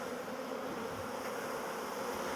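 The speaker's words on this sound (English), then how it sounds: "now that I've shaken most of these bees" Dense swarm of honey bees buzzing loudly after being shaken from a hive, a continuous droning hum close by with no talking.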